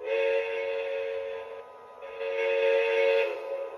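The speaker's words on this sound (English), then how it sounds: "You can also adjust the individual volumes right here, like of the whistle." Lionel Walt Disney World 50th Anniversary Express toy train set sounding its electronic whistle, two sustained chord blasts with a brief gap, loud and close, alone without talk.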